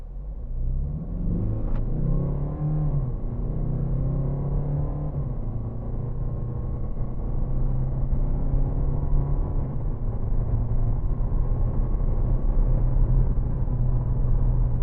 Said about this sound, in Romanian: Deci e prima dată când accelerez de la 0 la 100